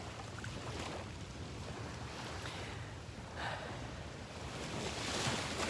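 Ocean waves at a seaside spot, a continuous rushing wash of surf with wind noise against the microphone, swelling louder toward the end, no voices.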